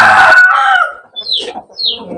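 Gamecock crowing at a fighting cock camp, a loud, close cock-a-doodle-doo that trails off, followed by two short, faint squawks.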